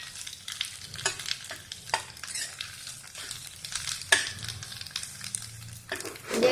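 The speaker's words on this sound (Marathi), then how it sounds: "खोबरं, कोथिंबीर आणि लसूण हे घालून भाजून घेऊ आपण. हे पण चांगलं भाजून घ्यायचं." A pounded paste of dry coconut, coriander and garlic roasts in a pan for a village-style brinjal curry, sizzling softly while a spatula scrapes and stirs in repeated close strokes.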